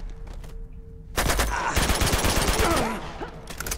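After a quiet start, rapid bursts of gunfire erupt loudly in Uncharted 2 on PS4, with machine-gun rattles and overlapping shots for a few seconds.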